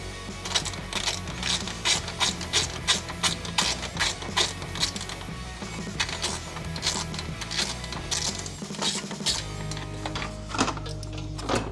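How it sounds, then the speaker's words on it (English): A 1/4-inch ratchet clicks steadily while backing out a 10mm bolt that holds a fan shroud to a car radiator, with close, rhythmic pawl ticks running throughout. "I'm gonna now with 1/4 inch 10, I'm going to just reach down through here for the last 10mm bolt that's holding this fan shroud to the radiator."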